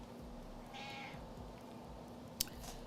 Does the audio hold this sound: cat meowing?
yes